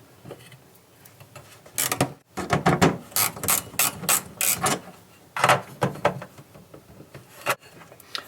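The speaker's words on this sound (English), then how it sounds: "Next we'll use a socket or a pair of pliers to remove the nuts on the speakers." Socket wrench ratchet clicking while removing the speaker nuts from a pinball machine, close and alone: a quiet start, then several bursts of rapid clicks with short pauses between them.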